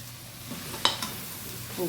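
Ground spices such as chilli and coriander powder being sautéed for a homestyle chicken curry, with a low steady sizzle broken by a sharp clink of a spoon against the pan and a few soft stirring scrapes.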